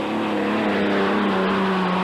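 Powerful unlimited hydroplane racing boat engines drone steadily at a sustained high pitch, three boats blending into one loud continuous roar during a 1986 Evansville race heat.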